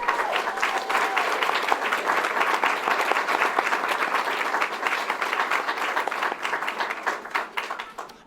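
Sustained audience applause at a Cape Cod Community College pinning ceremony for the funeral service program, a dense, steady wash of many hands clapping that holds through the moment and thins slightly at the end.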